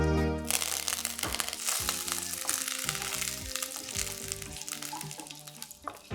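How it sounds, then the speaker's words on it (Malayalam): Mustard seeds, green chili and curry leaves crackle and sizzle in hot oil as a tempering for a hibiscus (china rose) curry, a steady close frying hiss with sharp pops over background music, with no talking. "ചട്ടി വിടാണ്ട് കടുക് പൊട്ടിക്കുക."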